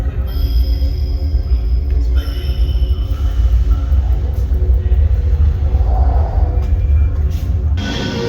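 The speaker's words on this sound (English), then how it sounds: "it is time for Flight of Fear. Premier Rides indoor launch coaster." A Premier Rides indoor launch roller coaster, Flight of Fear, gives a loud, steady low rumble of running machinery and train movement throughout, with a few faint higher whines and clatters on top.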